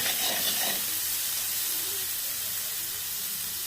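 Semolina pulao sizzles and fries in a covered pan, a steady, close hiss of frying and steam that holds evenly throughout without interruption.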